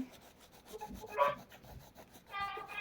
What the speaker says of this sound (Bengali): যে সাদা জায়গাগুলো থাকছে সেগুলো আঙুলে ঘষাতে কভার হয়ে যাচ্ছে, এটাকে বলা হয় ব্লেন্ডিং